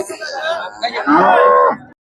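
A cow lets out a long, drawn-out moo close by at a cattle market in Karimangalam, Dharmapuri district, rising then fading, with a bit of background noise at the start.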